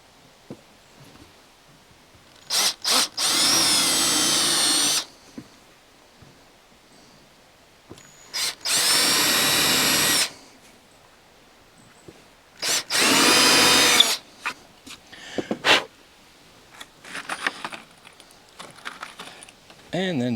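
Power drill driving screws into the back panel of a custom built-in wine and storage cabinet, three strong bursts of a few seconds each with pauses between, fairly close and loud, followed by lighter clattering handling noises.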